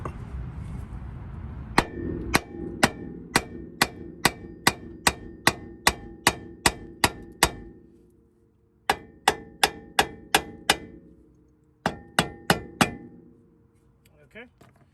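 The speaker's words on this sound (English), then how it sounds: "So let's go ahead and start hitting it with a hammer." Sharp metallic clangs ring out as a hammer strikes the upper control arm of a Honda Civic, loud and close, in a fast steady series of about fifteen blows, then two shorter bursts after a pause.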